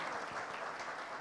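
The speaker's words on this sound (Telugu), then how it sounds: "Every one has to clap for her." An audience at a film pre-release event claps for actress Chandini Chowdary, a dense, steady wash of applause filling the hall without a break.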